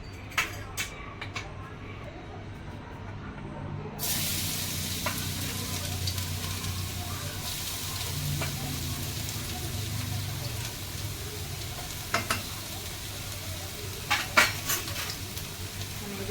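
Garlic drops into hot oil in a pan and sets off a sudden, steady, close sizzle, with light clinks of a utensil against the pan and a voice talking over it.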